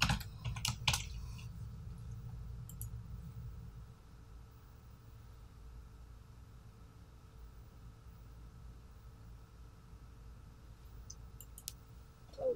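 Password keys are typed on a computer keyboard, a quick cluster of clicks at the start and then a few sparse taps over a quiet background hiss.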